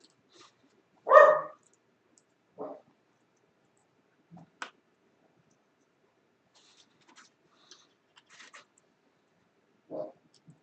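Dogs bark outside during an electronics power supply kit build indoors: a few short, scattered barks, fairly distant and quiet, separated by long stretches of near silence.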